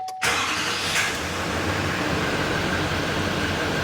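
A 2015 GM 2500HD truck with a 6.6 engine cranks briefly and catches, settling into a steady idle hum after a sharp start, close by with no voices.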